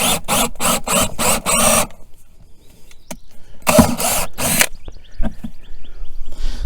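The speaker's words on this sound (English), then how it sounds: "that's just where our drill goes through" A soil sampling drill bores into the ground in loud, rhythmic bursts of grinding noise, then falls quiet, and a second burst follows. Softer clicks and knocks fill the pauses.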